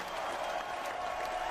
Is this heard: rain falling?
no